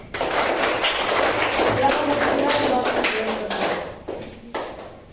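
A classroom of students claps together for group 3 after its presentation: a dense, steady burst of many hands that holds for about four seconds, then thins into a few scattered claps.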